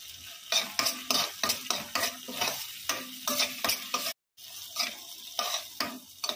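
A spoon stirs tomato and Schezwan sauce in a sizzling pan, rhythmic scraping clinks repeating steadily over a soft frying hiss, with a brief dropout midway.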